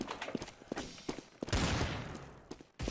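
Gunfire in the Garry's Mod TTT video game, a rapid run of sharp shots followed by a louder burst and a fading rumble, with no talk over it.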